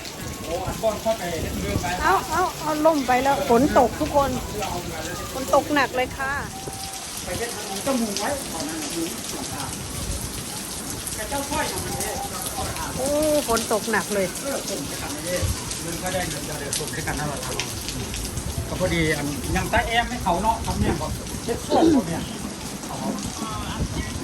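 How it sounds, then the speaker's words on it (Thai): Heavy rain pouring steadily at an outdoor restaurant, a dense constant hiss under people chatting in Thai nearby. "แต่ฝนตกค่ะ"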